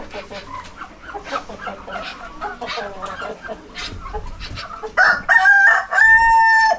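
Chickens cluck in a farmyard, scattered and close, before a rooster lets out two loud, drawn-out crows near the end, with faint speech-like sounds in the background.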